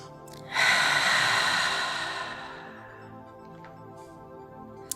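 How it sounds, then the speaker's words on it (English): A deep breath taken while holding a yoga stretch: one long, broad airy exhale rises sharply and fades slowly over a couple of seconds, followed by quieter breathing, close to the microphone. "Taking a few deep breaths here."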